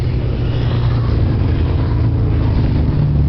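Motorcycles from a riding club pass on a forest road in Angeles National Forest, a steady loud engine rumble with deep low drone holding throughout the short stretch, no voices.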